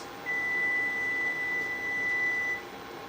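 A kitchen timer gives one steady high electronic beep lasting about two seconds, clear and alone while a carrot curry is being cooked.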